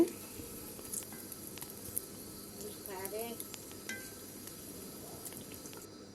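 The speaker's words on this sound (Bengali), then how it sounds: "এই তো আমার আম্মা এখানে ফুলকো ফুলকো তেলের পিঠা বানাচ্ছে" Oil pitha rice cakes fry on a clay stove, a soft, steady sizzle heard at low level with faint stirring and occasional light clinks.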